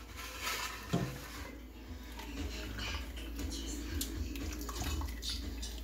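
Whey draining through a cloth strainer while making homemade cheese from two ingredients, a soft continuous trickle and patter of liquid with a brief knock near the start and faint background room noise.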